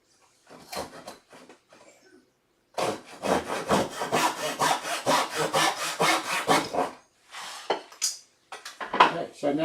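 Hand saw strokes cut a small piece off a wooden dovetail tenon, heard as a rapid rhythmic series of rasping strokes after a few scattered taps and scrapes, then some brief workshop handling noises.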